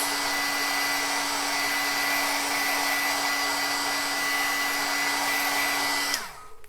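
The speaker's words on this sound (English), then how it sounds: "the longer you leave your heat tool on it" A heat tool blows hot air onto bleached cardstock in a steady, loud, close whir for about six seconds, then winds down and stops.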